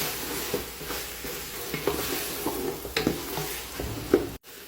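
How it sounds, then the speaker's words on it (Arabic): Close, continuous sizzling and stirring of chicken frying in a pot with mixed spices, curry spice, cold pepper and tomato paste for chicken kabsa, with scraping stir strokes throughout and no talk. "نكشن الدجاج مع البهارات ومعجون الطماطم."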